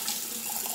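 Water running from a bathroom sink faucet in a resort villa, a steady close hissing stream splashing into the basin, brief and even in level.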